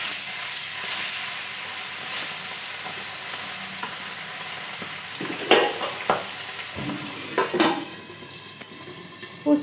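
Fish frying in hot oil for a mustard curry, a steady close sizzle and hiss with bubbling, broken by several sharp spitting bursts and stirring clatter toward the end.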